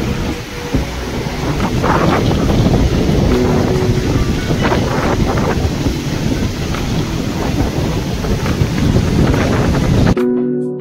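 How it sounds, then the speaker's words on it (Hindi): Sea waves roll onto the beach at Puri, a loud, continuous roar of surf mixed with heavy wind buffeting the microphone, cutting off abruptly near the end. "जब आप लोग लहरों की आवाज़ सुन रहे हैं"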